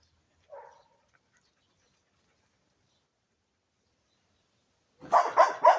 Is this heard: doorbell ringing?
no